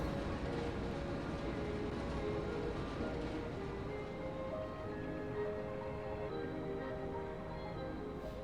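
A tram in the video game Lies of P runs along its track with a steady, loud, continuous rumble and rattle, metallic tones drifting through the drone, with no voices over it.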